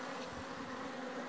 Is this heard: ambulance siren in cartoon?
no